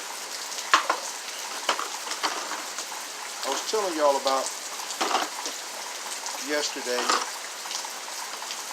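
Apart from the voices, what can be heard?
rain falling outside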